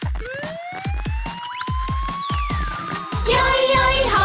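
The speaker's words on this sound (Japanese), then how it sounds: "パトカー出動。" Police car siren in a children's animated song, a wailing siren sweeping up and down over a steady, rhythmic, thumping beat, loud and close, with the music growing busier at the end.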